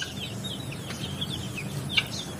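Three-day-old native chicken chicks peeping in soft, high chirps over a low background hum, with one brief louder cheep near the end, nearby and fairly quiet.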